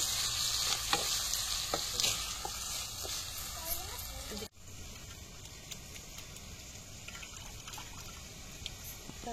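Ingredients sizzling and frying in a pan during outdoor terrace cooking, steady hiss with scraping stirs, a brief sharp break midway, then continued frying.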